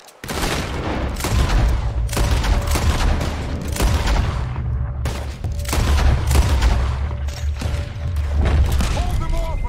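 Sustained gunfight in the Western video game Red Dead Redemption 2, with repeated loud rifle and pistol shots cracking in rapid irregular volleys over a rumbling low background for nearly ten seconds, some shots near and others farther off.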